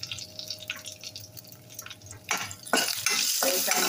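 Cumin, curry leaves, asafoetida and a dried red chili sizzle in hot oil for Kerala-style sambar, starting with quiet scattered taps and crackles, then swelling into a louder, steady frying hiss near the end.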